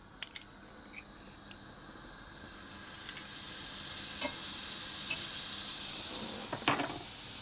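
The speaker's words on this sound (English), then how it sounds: "I'm going to put a little bit more oil in and the remainder of my butter" Oil and butter sizzle steadily in a pan before shallots go in for a creamy garlic and white wine sauce, a soft continuous hiss with a few faint clinks and taps, no voices.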